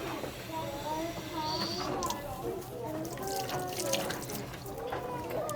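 A child scrubs something with soap under a running tap, a steady close splash and trickle of water with faint voices in the background.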